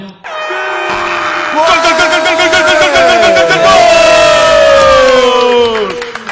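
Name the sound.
football supporters applauding quiz contestant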